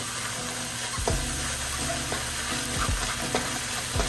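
Garlic and ginger stir-frying with vegetables in a pan for a ground venison lettuce wrap dish, a steady close sizzle broken by a few sharp knocks and scrapes of stirring.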